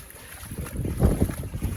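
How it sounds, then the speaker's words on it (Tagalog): Gusty typhoon wind buffets the microphone, rumbling in uneven low bursts that swell and fade over a couple of seconds, close and fairly loud. "Ang lakas ng hangin eh."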